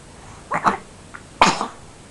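Two short bursts with a brief pause, then a sharper, louder sneeze-like burst; a close, explosive nasal expulsion with no talking.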